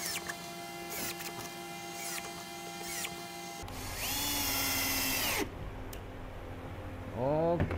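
A power drill drives screws into a cabinet carcass for an upper wall unit, with several whining bursts that spin up and wind down, loud and close, with quieter gaps between runs.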